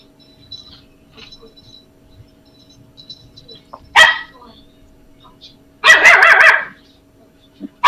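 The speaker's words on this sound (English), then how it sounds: "Heard a dog" A little Yorkie barks in a quiet room: one sharp bark, then a louder, longer burst of yappy barking a couple of seconds later, with a low steady hum underneath.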